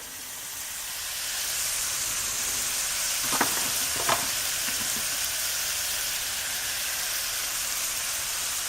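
Sausage browning in a pan gives a steady, fairly loud sizzle with a faint hiss, and two brief soft knocks come from stirring in flour.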